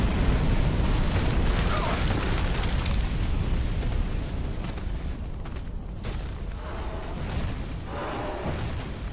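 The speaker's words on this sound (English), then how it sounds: "Bait the dragon fire." A dragon's fire breath roars in Dark Souls 2 at the Dragon Aerie, a loud, broad rushing blast at the start that slowly fades into rumbling and mechanical game ambience.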